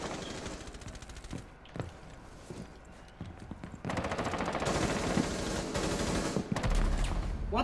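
Gunfire in the Rainbow Six Siege game on the Oregon map: rapid bursts of shots, quieter at first and growing louder and denser in the second half, with a steady din of game sounds underneath.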